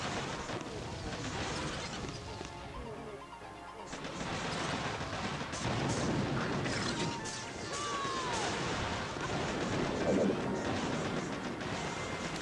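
Artillery and gunfire boom in the mobile strategy game Boom Beach, a dense busy battle mix of shots and impacts running continuously at moderate level, with a faint whistling projectile sweep partway through.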